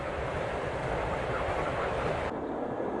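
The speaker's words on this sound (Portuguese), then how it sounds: "Os trens estavam correndo" A train rolling along a railway in post-war Japan, a steady broadband rumble filling the clip with no voices, its hiss dropping off sharply near the end.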